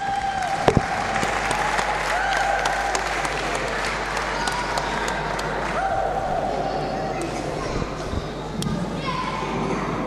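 A wrestling crowd at a UK pro wrestling showcase applauds after a match, sustained clapping filling the hall while a voice talks over it and shouts ring out.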